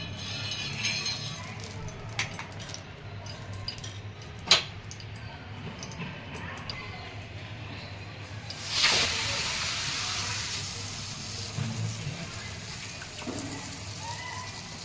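Methi dhapate flatbread frying in oil on a pan, a steady quiet sizzle with a sharp click near the middle and a louder burst of hissing afterward as oil is added around it.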